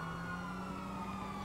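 A police car siren in Grand Theft Auto V on PS4 wails steadily and loudly through the whole stretch, with a sustained tone over a busy game-engine background and no voices.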